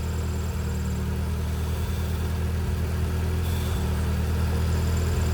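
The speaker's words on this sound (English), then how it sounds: "That's the throttle bearing." A worn throttle (release) bearing on an Acura RSX Type-S with the clutch released, heard as a steady drone and whir over the idling engine, continuous and close, with no talking.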